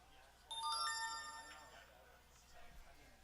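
A mobile phone gives a bright, chiming alert tone that rings out and slowly fades, indoors at a one-pocket pool match, with faint talk around it.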